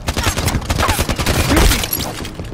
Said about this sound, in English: I'm gonna shoot you down here.